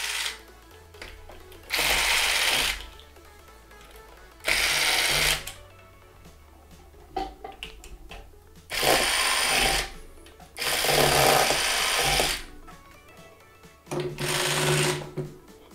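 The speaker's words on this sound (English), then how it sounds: "So let me go ahead and remove the 4 screws located on the battery holder." A power screwdriver or drill whirs in five separate bursts of a couple of seconds each, backing out four screws from a hoverboard battery holder, with quieter handling noise between runs.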